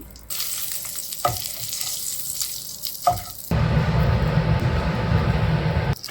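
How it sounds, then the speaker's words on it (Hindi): Dry red chilies frying in oil give a soft sizzle at first, then a louder, dense crackling hiss once they hit the hot oil, continuing steadily to the end. "और अभी हमें सेम ऑयल में फ्राई करना है ड्राई रेड चिली।"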